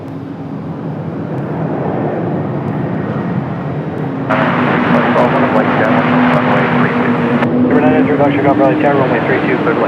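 An American Airlines plane from Charlotte arrives at Raleigh-Durham airport with a loud, continuous jet roar that swells midway with a rising whine, while people talk over it.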